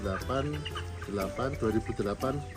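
Broiler chickens on a farm clucking nearby in busy, overlapping bursts of short throaty calls, with a steady low hum from the house beneath them.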